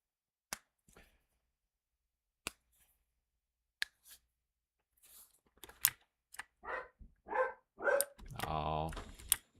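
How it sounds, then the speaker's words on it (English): Dogs bark in the game Noita: after a few sharp clicks, a quick run of loud barks arrives near the end, followed by a brief burst of noise. "Dogs are barking."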